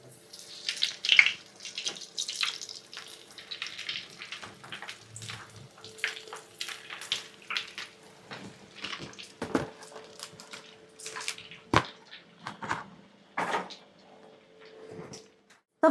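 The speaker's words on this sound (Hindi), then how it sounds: "मैंने यही फ्रोज़न जो बेचती हूँ वही निकाली और अपने लिए फ्राई कर रही हूँ।" Frozen cheesy chicken tikka kebabs frying in hot oil in a home kitchen, a steady crackling sizzle with scattered sharp pops and spits running throughout, fairly close and with no talking.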